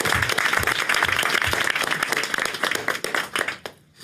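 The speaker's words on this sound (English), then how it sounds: "Let's give the judge a big round of applause." A room at a mayor's press conference breaks into a big round of applause for a judge, dense clapping that stays strong for several seconds, then thins and fades out.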